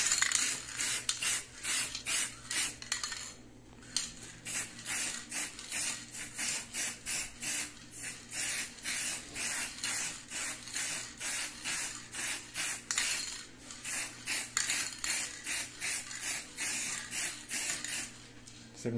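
A can of high-temperature spray paint hisses in repeated short bursts while coating a household appliance, the rhythmic on-off spraying close and steady throughout, with a brief pause partway through.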